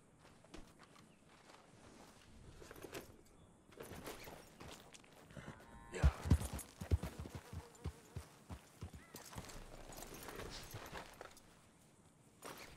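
Horse hooves in Red Dead Redemption 2 clip-clop over ground in a quickening run, with a burst of louder heavy hoof thuds midway, over game ambience and faint background sounds.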